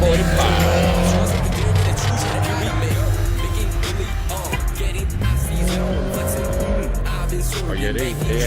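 Cars pulling away from a car meet in Montrose, Montgomery County, loud throughout, with squealing tires, revving engines and vehicles passing close by, over faint crowd voices.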